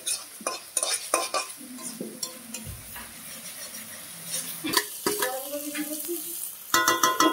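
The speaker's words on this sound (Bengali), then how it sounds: "এই চিকেনটা নেমে গেল কড়াইতে। এরপরে ভালো করে নাড়িয়ে নেওয়া হচ্ছে।" Country chicken coated in spices is stirred in a frying pan, with close, repeated scraping and clinking strokes of a spatula against the metal over a steady sizzle, alone without talk.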